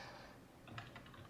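Faint computer keyboard typing, a few quick soft key clicks near the end over low room hiss.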